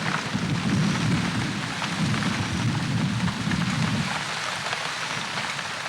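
Heavy rain pours steadily on open African plains during a storm, a dense, continuous wet hiss with a low rumble beneath, loud and unbroken throughout with no voices.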